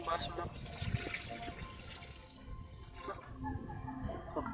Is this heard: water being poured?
yes